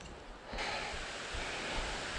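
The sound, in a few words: running water in the woods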